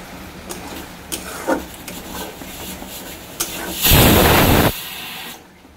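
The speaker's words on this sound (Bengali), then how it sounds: "এই মশলাটা ভালো করে ভাজাবো।" Ginger, garlic, dried chilli and tomato spice paste fry in a pan, heard as scattered scraping stir strokes, then a loud sizzling burst near the end that cuts off abruptly.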